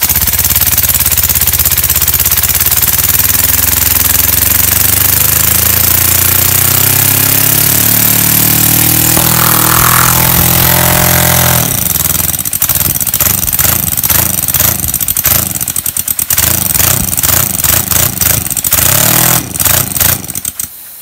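Small engine with steel cylinders running close and loud, a steady hum that shifts into a rapid, hammering rhythmic chatter for the second half.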